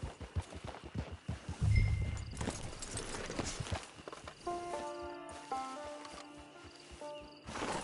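Horse hooves clip-clop at a steady walking pace in a PS4 video game, accompanied by a low rumble and a soft musical score that enters partway through.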